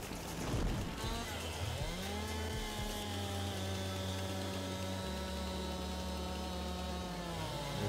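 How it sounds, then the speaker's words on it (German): Chainsaw cutting trees in Farming Simulator 22, a steady droning engine whine with shifting pitch as the saw bites and revs, continuous and fairly faint throughout, alone without talk. "Du musst die Kettensäge einmal rumdrehen."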